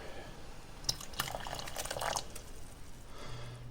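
Vinegar is poured into a dye pot, a short close trickle and splash of liquid with a few drips that fades out after a couple of seconds.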